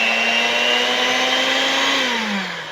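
An electric mixer runs steadily through 7up cake batter, a loud, continuous whirring hum that holds an even pitch before slowing and dropping in tone near the end, with no talking.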